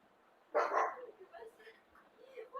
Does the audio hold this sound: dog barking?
yes